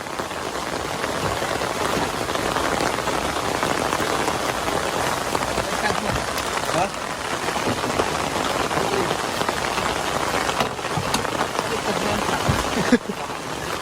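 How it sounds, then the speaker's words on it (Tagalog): Heavy rain pours steadily onto a surface, a dense continuous hiss and patter filling the whole stretch at close range, with occasional faint voices underneath. "Lakas ng ulan."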